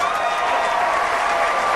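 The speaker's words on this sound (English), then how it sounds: "Do that again. The clapping." A seated audience at a public speaking event claps again on request, a loud, dense burst of applause filling the room evenly from start to end.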